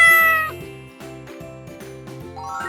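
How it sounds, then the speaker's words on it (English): A cat meowing: one drawn-out, falling meow at the start over a bouncy, repetitive musical backing that carries on to the end. "Cats make a sound called a meow."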